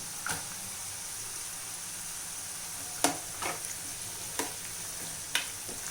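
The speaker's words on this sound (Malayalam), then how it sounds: "ഇഞ്ചി പച്ചമുളക് ഒക്കെ ഇട്ടു." Ginger and green chillies fry for a homemade gooseberry pickle, a faint steady sizzle broken by several sharp clinks and scrapes of stirring in the pan.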